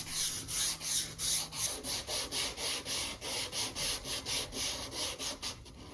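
Rhythmic back-and-forth sanding strokes rasp steadily across a German Luftwaffe steel helmet, about a dozen even passes close up with no talking.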